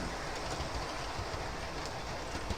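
A model railway train runs round its track with a continuous rolling clatter of wheels on rail joints, steady and fairly close, with no speech.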